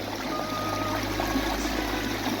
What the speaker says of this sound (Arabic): شلالات ما شاء الله تخرج من باطن الأرض